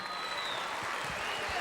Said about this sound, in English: can we have a big round of applause for Bill Palmer, the general manager of the